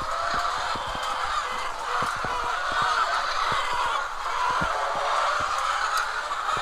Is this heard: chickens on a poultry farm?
yes